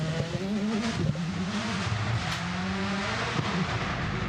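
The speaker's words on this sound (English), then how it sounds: "we have Esteban Ocon, who is piloting the Toyota WRC GR Yaris Rally 1" A Toyota WRC GR Yaris Rally1 rally car drives a forest stage, its engine holding a steady droning pitch with slight rises as it works through the gears, continuous and moderately close with no talking.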